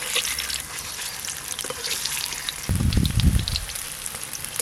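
Hot oil spitting and crackling in a pan as eggs and young jackfruit fry, a steady background hiss swelling into a louder, closer burst of sputtering near the end.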